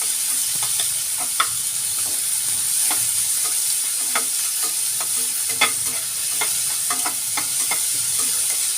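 Onions soften while frying in a pan, with a constant hissing sizzle under frequent spatula scrapes and taps, close and steady, no speech.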